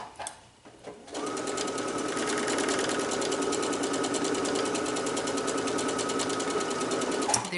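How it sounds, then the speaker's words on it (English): Sewing machine stitching across fabric, a quick start followed by a steady, rapid, close mechanical whir that runs uninterrupted for several seconds before stopping. "And then we're just going to stitch across."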